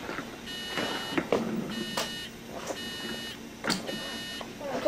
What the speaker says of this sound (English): Yeah, Pete, I got an alarm on section 2 again.